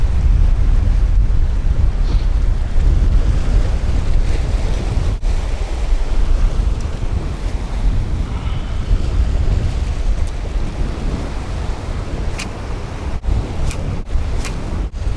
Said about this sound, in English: The water's kind of churned up now though because those winds picked up.